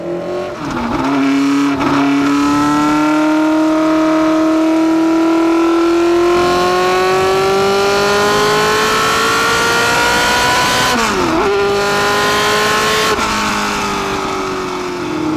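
A 1969 McLaren M9A race car with a Cosworth engine brakes and downshifts into a chicane, then pulls away again. The loud, close engine rises in pitch through long throttle runs, with short blips between them, and no voices.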